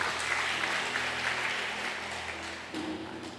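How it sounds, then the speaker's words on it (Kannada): Sustained applause from a church congregation for the choir team, a thick continuous clatter of many hands that holds steady and then swells slightly near the end, with no voices on top. "ನಮ್ಮ ಕಾಯರ್ ಟೀಮಿಗೊಂದು ಜೋರಾಗಿ ಚಪ್ಪಾಳೆ ತಟ್ಟಿ."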